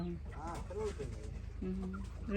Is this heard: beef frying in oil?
no